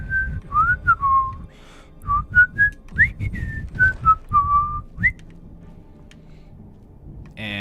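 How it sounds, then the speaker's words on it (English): A Skyrim game character gives a short, light melodic whistle, a run of quick rising and falling notes lasting a few seconds, heard clearly over soft game ambience with no talk. "Then he just does a little whistle and walks out."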